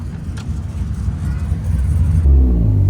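A rotary-engined sleeper car accelerates on low boost, its engine note building steadily and growing louder toward the end, with faint voices in the background.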